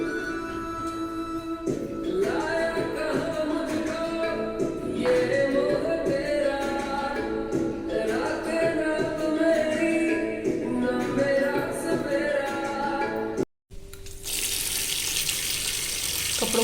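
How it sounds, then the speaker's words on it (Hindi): Clothes are washed by hand under running water in a village setting, with steady splashing and flowing water nearby over a tonal background and a sudden louder gush near the end. "कपड़ों को मैंने धो दिया"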